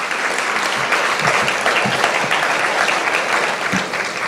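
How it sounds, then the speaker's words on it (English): A crowd claps steadily at a memorial lecture held by the Eastern Caribbean Central Bank, a dense, continuous wash of applause at full volume throughout. "Let's give him a round of applause."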